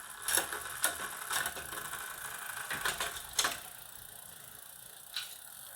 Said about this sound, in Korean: 변속을 하고 리미트 볼트 조절합니다